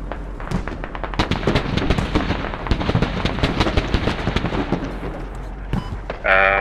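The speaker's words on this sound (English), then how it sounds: "I didn't realize you were throwing frag rounds" Rapid bursts of frag-round explosions from the military shooter game Squad, a dense run of sharp blasts and crackles filling the clip, close and loud, with a different bright effect cutting in at the end.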